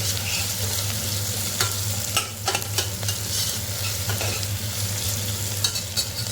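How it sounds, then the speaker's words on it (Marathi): Chopped onion sautés and sizzles in a pressure cooker while a spoon stirs it, scraping and clinking against the metal pot in irregular strokes over a steady low hum, close and fairly loud with no voices. "त्याच्यामध्ये कापलेला आपला कांदा कांद्याला थोडंसं आपण परतून घ्यायचं"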